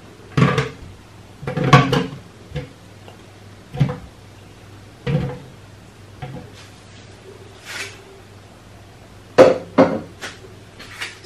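Several sharp clunks and thuds of cucumber and kiwi pieces dropping into a blender, spaced irregularly with quiet gaps between them, close by and without talk.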